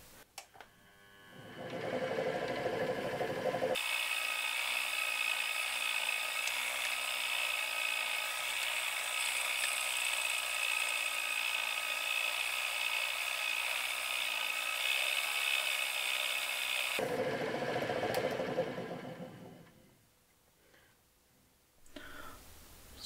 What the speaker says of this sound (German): Und dann werde ich dann nochmal eben mit meinem Drechselwachs das noch ein bisschen polieren.